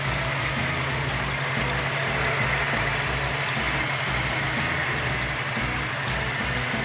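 A 1968 Ford Bronco with a factory 289 V8 and Holley four-barrel carburetor idles close by, a steady low rumble with an even, smooth pulsing rhythm and no talk over it.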